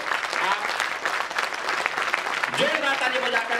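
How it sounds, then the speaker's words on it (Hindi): A hall audience at a national party convention claps loudly and continuously to welcome newly appointed office-bearers, with a voice briefly audible over the steady clapping. "कृपया एक बार जोरदार ताली बजा करके"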